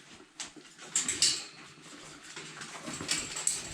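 Seven Bullmastiff puppies shuffle and patter around their playpen, soft scrabbling and small clinks mixed with a couple of brief high squeaks, quiet and close with no talking.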